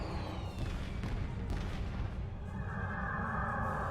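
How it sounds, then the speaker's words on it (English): Fireworks go off from a Tholian ship in the Star Trek Online space game, a dense, steady rumble of booming bursts with crackling layered throughout, loud and continuous. "apparently this Tholian ship has fireworks"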